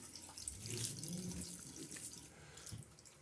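Cold water runs steadily from a tap into a sink during a wet shave, a continuous close splashing rush with no talking.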